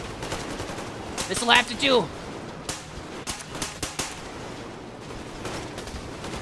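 Pump shotgun fire in Metro Exodus, several sharp blasts spaced across the clip amid other game noise, with someone speaking briefly over it.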